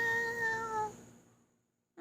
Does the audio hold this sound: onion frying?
no